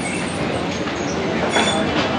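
A metro train in an underground station in Ankara gives a loud, continuous rumble with a faint metallic wheel squeal rising near the end.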